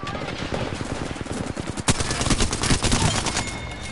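Rapid automatic gunfire from the video game Apex Legends, dense bursts of shots crackling continuously, with a sharp loud report near the middle and quick repeated volleys after, loud and close throughout.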